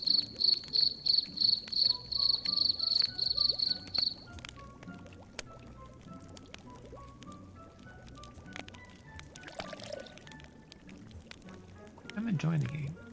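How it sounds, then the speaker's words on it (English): Crickets in the game The Book of Unwritten Tales trill in a quick even rhythm for about four seconds, then fall silent as a soft ambient background and faint game sounds continue, with a low voice near the end. "It's crickets."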